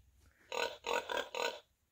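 Four short, rhythmic pig grunts in quick succession, close and clear, with no talking.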